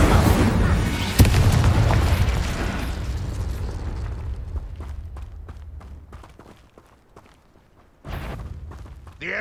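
In Hogwarts Legacy, casting the Incendio fire spell sets off a loud booming burst of flame that roars and slowly fades, followed by crackling pops and a second whoosh near the end.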